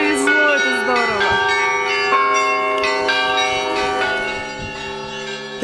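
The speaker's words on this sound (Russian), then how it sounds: "Конечно, колокольный звон," Church bells ring at the sixteenth-century Church of the Ascension at Kolomenskoye in Moscow, with layered overlapping peals and sustained ringing tones that carry on through the moment.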